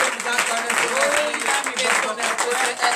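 A church congregation applauds, with dense, steady clapping throughout. Voices can be heard faintly underneath.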